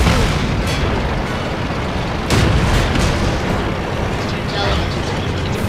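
Artillery shelling in the World of Tanks video game: a dense, continuous roar of battle noise with a sharper, louder blast partway through and steady rumbling around it.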